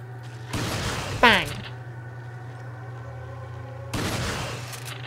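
A shotgun fires in the video game Resident Evil 4 as one sharp, loud blast with a quick ringing decay. A steady game music drone and bursts of other game noise sit around it.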